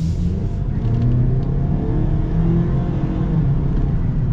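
2024 Ford Maverick Lariat compact pickup accelerating, its engine giving a loud, close, continuous low rumble that builds steadily with no voices over it.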